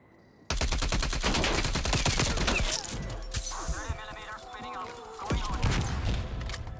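Heavy, rapid gunfire from a strafe run in Call of Duty Black Ops Cold War sweeps across a match, sustained and loud with dense overlapping bursts and crashing impacts.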